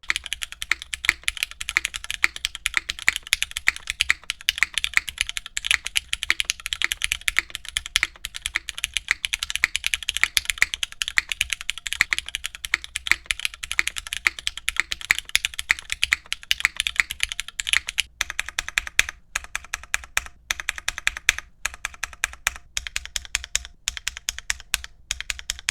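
Fast, continuous typing on Kohaku mechanical keyboards fitted with MX Black switches on an aluminum plate, the keystrokes clattering densely and loudly up close with no talking.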